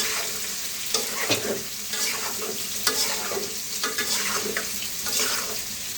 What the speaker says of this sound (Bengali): এখন একটু নেড়ে চেড়ে লালচে ভাব করে নিচ্ছি।